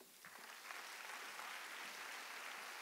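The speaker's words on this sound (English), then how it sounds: "Give the Lord a hand clap." A church congregation claps hands for the Lord during a sermon, a brief burst of faint, fairly distant steady applause.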